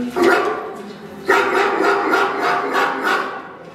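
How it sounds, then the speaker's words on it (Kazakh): A dog barks and yelps in a quick series of sharp, loud calls, close up, after one separate bark at the start. "Ит."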